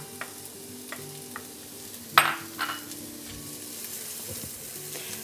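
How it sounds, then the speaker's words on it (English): Onion is added to hot oil in a pan, giving a sharp sizzle burst followed by quieter frying and a few light stirring clinks, close and alone. "I've put the oil into a pan and I've started to heat it up,"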